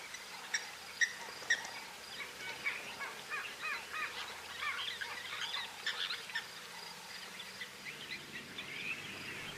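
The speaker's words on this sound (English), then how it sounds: "a flock of about 8 Egyptian geese began making their way towards us" A flock of about eight Egyptian geese calls outdoors at dusk, a run of honking, chattering cries rising and overlapping at moderate distance, with a few sharper louder calls near the start.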